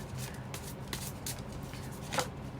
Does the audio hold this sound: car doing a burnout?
no